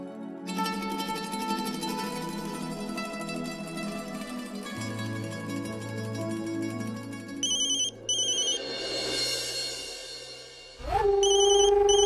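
A telephone rings with a repeating electronic ringtone over steady background music in a Hindi TV serial home scene, the tone continuing for most of the stretch before a sharp shift near the end.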